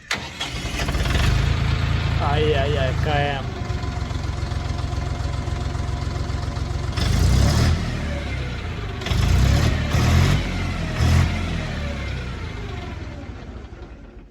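A Dongfeng tractor's diesel engine cranks and starts, then settles into a steady rumbling idle, with people talking over it.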